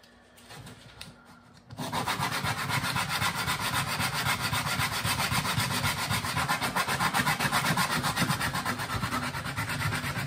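Sandpaper rubs back and forth on an acoustic guitar bridge in steady, rapid rasping strokes, close and continuous after a brief quieter start, with no talking.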